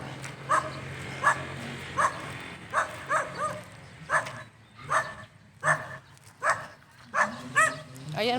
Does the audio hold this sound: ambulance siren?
no